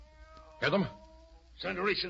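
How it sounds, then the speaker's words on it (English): A cat meows twice, close and fairly loud, as a sound effect in an old-time radio drama; a voice speaks low over a faint background hum. "that's a cat meowing."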